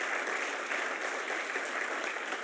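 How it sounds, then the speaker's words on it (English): An audience at a Hall of Fame induction ceremony applauds the speaker's former teammates, a steady wash of many hands clapping from a sizeable crowd, even and sustained across the moment. "can I have a round of applause for my teammates, please?"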